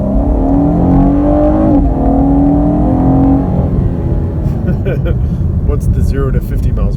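A 2017 Chevrolet Camaro RS V6 accelerates hard on a neighborhood street, its engine drone climbing steadily and then easing off into broadband road and wind noise with some cabin rattles, heard from inside the car.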